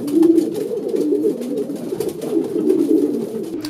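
Racing pigeons coo in a loft, a steady low murmuring of several birds close by, continuous and fairly loud with no talk over it.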